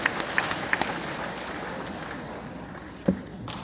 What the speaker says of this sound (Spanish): Un aplauso para todos ustedes. Aquí sí podemos aplaudir. Un aplauso.